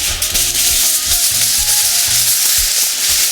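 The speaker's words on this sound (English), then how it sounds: "I'm going to cup this like this. I'm going to put it into another piece of foil like this. This is heavy duty foil." Heavy duty aluminium foil being handled and cupped around a dry-rubbed cut for smoking, producing close, loud crinkling and rubbing with rhythmic low thumps, no talk.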